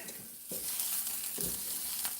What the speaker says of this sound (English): we're getting a little bit of burnt marks on this, which means they're sauteing, which is what we want